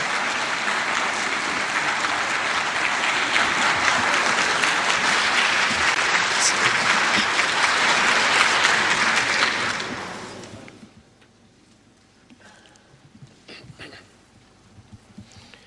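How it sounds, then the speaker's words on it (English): A conference hall audience at a UN review conference in Geneva applauds Iran's president Mahmoud Ahmadinejad with steady, dense clapping for about ten seconds, then it fades abruptly into quiet room noise with a few stray sounds. "Applause there for the President."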